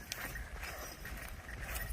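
Ongole bull calves walk along, their hooves giving soft, uneven thuds and scuffs over a low rumble, faint and somewhat distant throughout.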